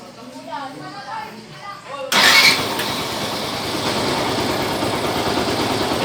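A car engine, just fitted with a new belt tensioner to cure a rattle, cranks and catches sharply after a person talks, then settles into a steady, even idle close by.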